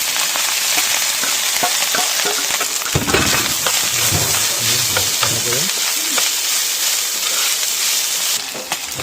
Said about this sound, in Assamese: এতিয়া ধুনীয়াকৈ ভাতখিনি দি দিম ভাতখিনি ধুনীয়াকৈ ফ্ৰাই কৰিম